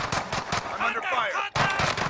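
Rapid video game gunfire in a multiplayer battle, bursts of automatic shots crackling loudly and continuously, mixed with game effects and briefly cutting out, while players talk over it.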